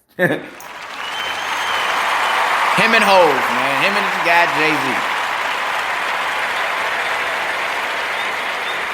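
Audience applause rolls on steadily for a hip-hop tribute, a broad wash of clapping with someone talking over it in the middle.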